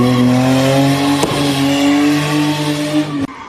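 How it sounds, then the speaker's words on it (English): Cars revving engines and spinning at a late-night street sideshow in a residential neighborhood, a loud sustained engine drone with a sharp crack partway through and an abrupt cutoff near the end. "It sounded like a racetrack. Honestly, they were revving up their motors."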